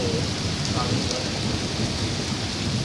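A heavy, continuous downpour with thunder rumbling low underneath, filling the whole stretch evenly and loudly.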